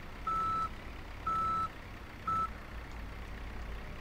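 A forklift in the Forklift 24 The Simulation video game sounds three evenly spaced electronic reversing beeps over a low engine rumble, the last beep shorter, with no voices.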